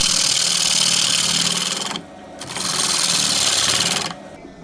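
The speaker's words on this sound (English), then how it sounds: "you can hear when a tool is cutting well. It has a nice crisp treble note." A close, bright, hissing whir of a tool cutting a spinning wooden bowl on a lathe, in two long passes separated by a short lull.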